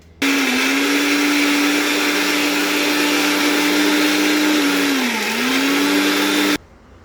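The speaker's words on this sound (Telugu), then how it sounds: "సో మనం ఇలా మిక్సీ పెట్టాలి." A mixer grinder (mixie) whirs loud and steady while coarsely grinding soaked chana dal with salt, ginger and cloves, its motor dipping briefly in pitch near the end before cutting off abruptly.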